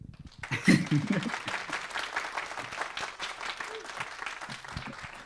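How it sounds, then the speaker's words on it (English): An audience claps after a Mysterium 2022 presentation on The Last Clockwinder, heard through a turned microphone as a fairly faint, continuous patter of many hands, with a brief louder burst near the start. "I'm going to rotate the microphone so everyone, y'all can hear everyone clapping"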